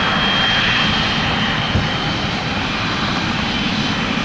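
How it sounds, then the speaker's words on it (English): Cathay Pacific Boeing 777-300 jet engines roaring during takeoff at Toronto Pearson International Airport, a loud steady broadband rumble with a thin high whine, constant throughout. "Let's listen to those engines."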